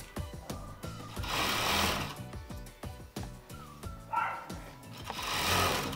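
Sewing machine stitching the seam of a child's coat, running in bursts of fast rhythmic clatter with short pauses between runs, close and fairly loud, with no talking.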